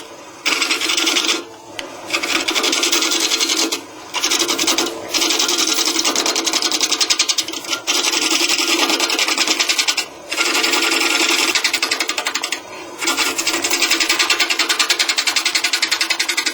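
Lathe tool cutting a tenon on a tilted wooden bowl, a loud continuous rasping, buzzing cut with a few brief pauses as the tool is lifted off the spinning wood.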